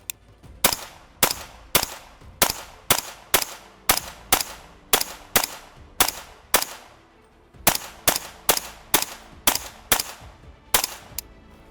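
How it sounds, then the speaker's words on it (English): An ATI Omni Hybrid polymer AR rifle fires 300 Blackout subsonic rounds from a 7.62 magazine: about twenty sharp, loud shots in an even, quick rhythm, with one short pause partway through the string. "Let's try subs through this 300 blackout mag."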